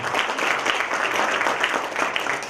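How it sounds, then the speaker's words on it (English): At a New Year gathering, a room gives a round of applause for a man in the audience: a thick, even roar of many people clapping at once, close and fairly loud throughout. "A round of applause for him."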